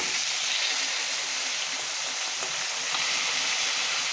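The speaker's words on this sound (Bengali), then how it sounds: "মাছ ভাজা হচ্ছে, এখানে কিছুটা ভাজা হচ্ছে এই যে।" Fish frying in a pan in a home kitchen, a steady bright sizzle with soft crackles throughout, close and continuous with no voices.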